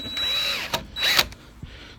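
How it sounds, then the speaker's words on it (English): Two short bursts of a cordless drill driver driving screws while installing a deadbolt, whirring with a high motor whine, each stopping abruptly; quiet between them. "Now, I don't recommend you use a drill driver."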